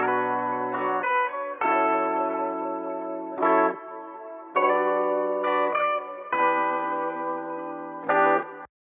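Guitar loop for an emotional Afrobeats track with EQ applied, low end and boxy mids trimmed and highs boosted, bright sustained chords changing in a repeating pattern, heard alone and cutting off at the end.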